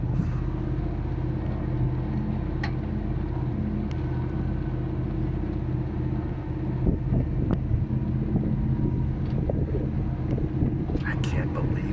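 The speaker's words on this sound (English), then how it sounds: "That was a 4-low first gear climb." A 4x4 vehicle grinds up a steep trail in 4-low first gear in Grand Staircase-Escalante, Utah, its engine a steady low rumble with wind buffeting the microphone and occasional knocks and rattles.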